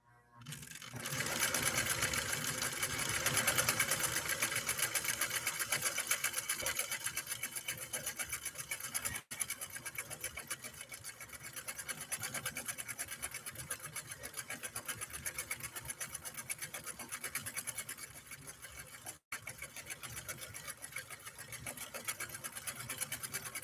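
A Nordic-Husqvarna Automatic sewing machine runs a decorative cam stitch in slow gear, a steady close mechanical whir with fast needle chatter that continues for most of the span, broken by two very brief pauses.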